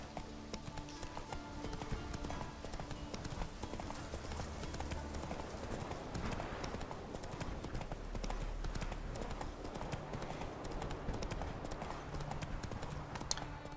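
Hooves of the horse Roach clip-clop steadily in The Witcher III: Wild Hunt on Xbox One, a continuous trotting rhythm layered over game music and ambience, without a break through the whole stretch.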